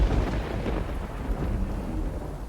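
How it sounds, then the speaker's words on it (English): A deep, loud roll of thunder rumbles continuously through a rainstorm, the low boom swelling at the start and trailing off with steady rain behind it. "Then a deep roll of thunder and rumble."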